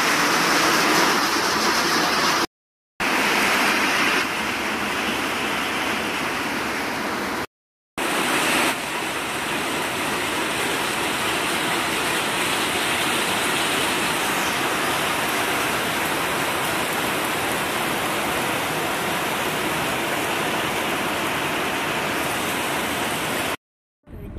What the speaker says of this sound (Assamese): দালি হ'ল আৰু ইমান পানী পৰি আছে চাওকচোন